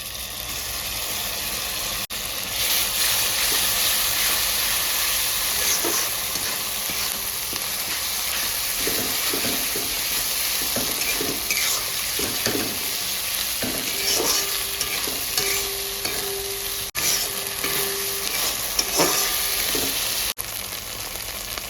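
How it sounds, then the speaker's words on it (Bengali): Potatoes and onions fry in a pan for a Bengali goat meat curry, a steady close sizzle with repeated scraping stirs and clinks of a spatula against the pan throughout. "আলু আর পেঁয়াজটা ভেজে নেব"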